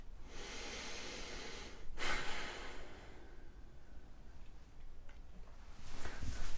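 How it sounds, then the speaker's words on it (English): Slow, audible breaths during a lunchtime stretching and breathing meditation, a long soft exhale rising around the second mark, then quieter breathing and another louder breath at the end, close and alone. "breathe out as you're stretching, back to centre and down, and breathe"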